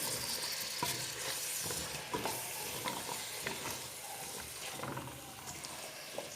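Vegetables with spices sizzle and simmer in a pot, a faint, continuous crackle with occasional soft stirring scrapes, heard close but quiet.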